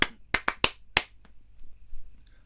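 Five sharp hand claps in the familiar shave-and-a-haircut pattern, a quick uneven burst followed by a short pause and a final clap, close and crisp in a quiet room.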